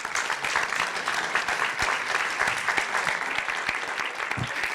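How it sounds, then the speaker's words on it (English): Audience applause at a meeting with six Oregon legislators, a sustained patter of many hands clapping at moderate distance, fairly even in loudness throughout, with no talk over it. "let's give a big round of applause for all the hard work that they've been doing"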